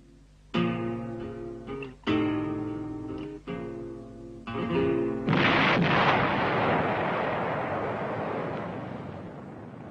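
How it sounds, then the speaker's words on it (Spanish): Demolition blast bringing down one of the towers of the Alcázar fortress in Toledo, dynamited by miners during the Spanish Civil War: a loud, broad roaring burst about halfway through, following tonal music, with a long rumbling decay. "La formidable explosión precipita una de las torres al Tajo."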